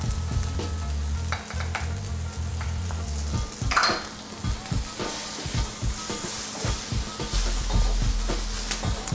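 Coriander powder, cayenne and turmeric being stirred into sizzling onions and garlic in a pan for Chettinad shrimp, a steady close fry with repeated scraping stirs, loud and with no talking.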